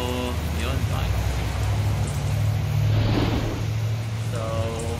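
Heavy afternoon rain pours steadily at a work site in Kuwait, a dense continuous hiss over slick roads, with a voice murmuring beneath the downpour.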